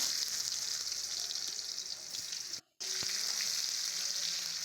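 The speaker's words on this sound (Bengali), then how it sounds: "পেঁয়াজটা ভালো করে ভেজে নেব" Onion frying in oil with black cumin in a wok, a dense, steady hiss of sizzling that cuts out for an instant near the end, then resumes at the same level, close and alone.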